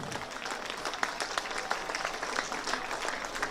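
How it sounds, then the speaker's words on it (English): Moderate clapping from a crowd at a women's Division 4 football grand final between Ferntree Gully and Bayswater, with distinct individual claps audible through the steady applause. "Could we give both competing teams a big round of applause?"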